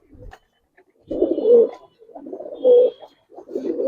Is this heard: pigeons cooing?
yes